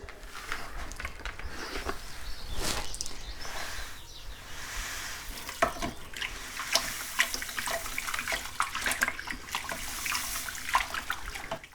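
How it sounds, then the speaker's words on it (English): Malted grain tipped into hot strike water for a homebrew light ale mash gives a steady, close rushing pour with splashy, gritty bursts and scattered clinks, continuous and no talk. "So now strike water's ready. In goes the grain."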